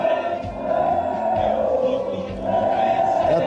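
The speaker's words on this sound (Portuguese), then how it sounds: "Essa aí é a comemoração dos jogadores aqui, dos torcedores aqui no aeroporto" Football supporters celebrating the players' arrival at the airport in Maceió, a dense, steady crowd roar with sustained cheering and shouting that swells and dips slightly, loud throughout.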